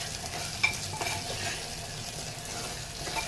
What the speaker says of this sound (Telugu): ఇది పచ్చివాసన అయినంత వరకు వేపుకోవాలి అన్నది